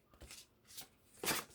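Paper for a junk journal folio is trimmed in a few short, soft, rustly snips and swishes, very close and quiet, with an irregular rhythm and a stronger cut near the end.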